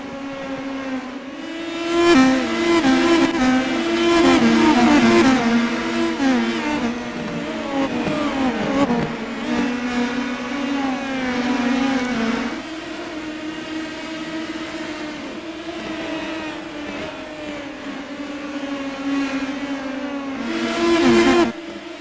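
Race car engines in the iRacing game, Indy Pro 2000 cars at New Smyrna Speedway, rise in pitch as the field accelerates at a green-flag restart, a loud sustained harmonic drone with repeated surges and shifts, no talking.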